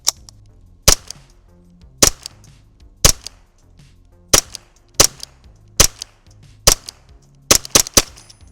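Derya TM22 .22 rifle fired in single shots, about ten sharp, fairly quiet cracks spaced roughly a second apart, with a quicker pair at the end, heard close with no talking.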